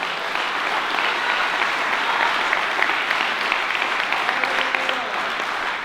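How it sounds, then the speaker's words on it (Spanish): A church congregation applauds loudly at a sermon on revelation, a steady, dense wash of clapping that fills the whole stretch without pause. "Alguien da un aplauso a Jesucristo."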